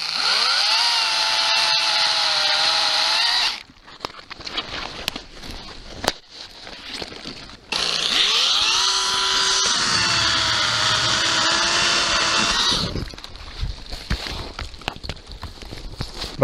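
A chainsaw cuts branches off a large cherry tree during fruit-tree pruning. A loud, near engine roars through two long cuts with pitch shifts under load, separated by a pause of rustling branches and handling.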